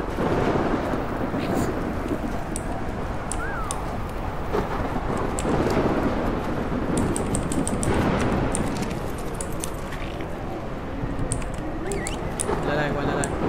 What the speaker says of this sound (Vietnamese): Rồi bão cát tới nữa.